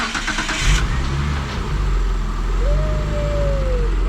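A Mitsubishi Eclipse third-generation engine cranks and catches, then settles into a loud, steady idle close by, a faint rising whine drifting over the engine noise near the end.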